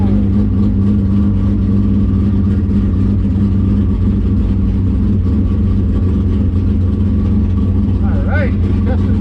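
A 1965 Impala SS drag car with an LS7 engine does a burnout in the burnout box at the drag strip, its engine roaring loud and steady throughout with heavy rumble, with other race cars droning around it.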